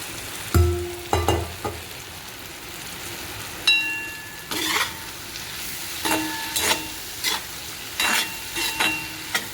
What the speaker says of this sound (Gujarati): જો હવે તેમાં આપણે ભીંડા તળેલા નાખી દઈએ.